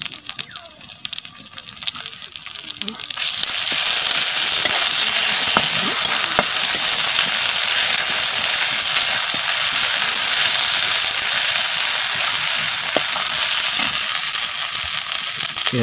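Chili, garlic and cumin paste frying with onions in a village kitchen, a steady loud sizzle that swells after a quieter start, with scattered stirring clicks and scrapes close by.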